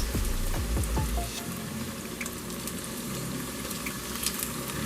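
Churro chips frying in hot oil give a steady, dense sizzle close up, with a brief low bubbling rush at the start as the pieces go in.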